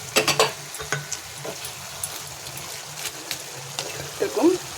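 An already-fried fish head is added to a pan, bringing a continuous low sizzle with several sharp clinks and scrapes of utensils at the start and close. A voice speaks briefly near the end.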